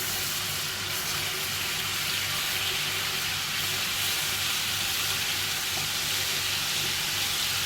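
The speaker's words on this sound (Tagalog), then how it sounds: "In here, I already put oil. I put my garlic and ginger paste." Garlic and ginger paste frying in hot oil for lamb machboos, a steady close sizzle running evenly throughout with no pauses.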